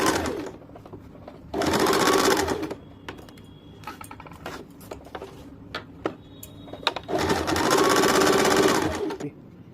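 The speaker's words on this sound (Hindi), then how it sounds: "इसके ऊपर गोलाई से इलास्टिक को छोड़ के मैं मशीन चला लूंगी।" Sewing machine stitching a salwar, with two loud sustained bursts of whirring, rapid stitching separated by quieter handling noises, close to the microphone.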